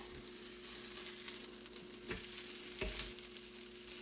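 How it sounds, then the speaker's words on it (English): Potato pancakes fry in a pan with a steady, close sizzle and are turned over, with a couple of soft thuds from the flips. "Now we're gonna flip them."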